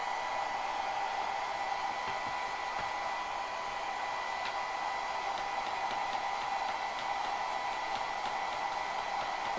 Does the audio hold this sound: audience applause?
no